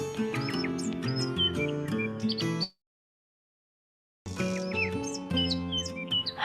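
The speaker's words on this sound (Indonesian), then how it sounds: "Allah juga menciptakan berbagai jenis burung yang terbang di udara." Birds chirp and tweet in quick, bright, overlapping calls. The song is loud and close, breaks off into a moment of silence, then resumes just as busily.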